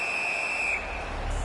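A referee's whistle shrills steadily to halt play in an NHL 19 hockey game between the St. Louis Blues and an opponent, one long bright blast over crowd and arena noise that cuts off partway through.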